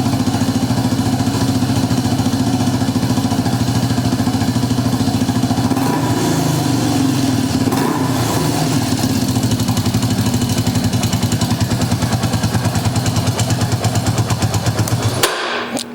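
A Yamaha Warrior 350 ATV engine runs loud and close with a steady, rough chugging idle and mechanical clatter, its carburetor needle and seat sticking and leaking fuel, before it cuts out at the end.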